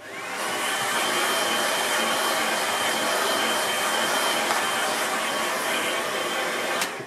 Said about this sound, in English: I'm going to give that a quick dry.